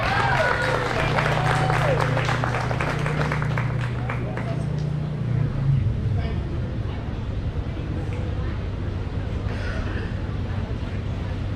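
An audience at a county fair 4-H/FFA rabbit show gives the champion a round of applause, a broad wash of clapping and crowd murmur that carries on steadily, with a voice over a loudspeaker early on.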